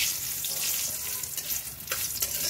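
Garam masala spices sizzling and frying in a little hot oil in a pan while cooking koi fish bhuna, a steady close crackling hiss throughout with occasional stirring scrapes.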